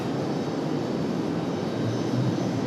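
An airplane roars down runway 23 right at Raleigh-Durham on its takeoff run, a loud, steady broadband engine rumble with no voices over it.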